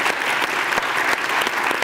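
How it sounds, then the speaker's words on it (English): Applause for panelists at a conference session, a brief, loud, dense burst of many clapping hands from a crowd. "Hand of applause."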